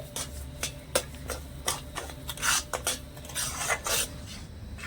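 A spoon stirs sugar into a mango and milk mixture in a pan for laddu, making a series of close, rhythmic scraping and rubbing strokes against the pan with no talking.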